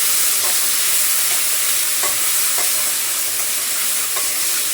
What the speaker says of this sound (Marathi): टमाटा चांगला परतून घेते